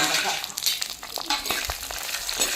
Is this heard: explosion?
no